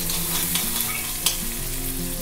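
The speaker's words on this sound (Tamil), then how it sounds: "ஒரு 2 நிமிஷம் வதங்கட்டும்." Small onions and curry leaves fry in a pan with a steady, close sizzle lasting throughout, over a constant tonal hum in the background.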